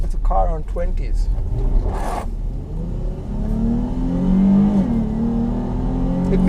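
2019 Dodge Charger GT on 20-inch wheels accelerating, its engine note rising in a droning pull that grows louder toward the end, with brief voices and rustling early on.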